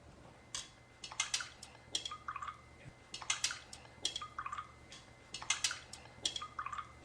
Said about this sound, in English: Now let me stir these up real quick.